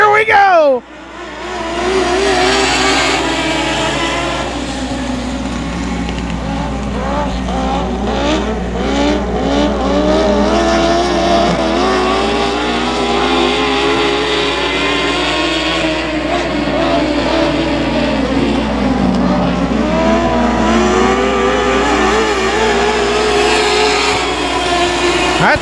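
Stock cars roar around 281 Speedway in a continuous loud drone of revving engines, rising and falling as the pack passes, with an excited race commentator talking over it throughout.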